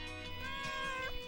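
A cat meows in a long, drawn-out cry with a rising and falling pitch, close by and fairly quiet, with no talking.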